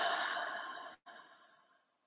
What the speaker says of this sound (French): Et on prend 3 belles respirations profondes avec le sourire aux lèvres.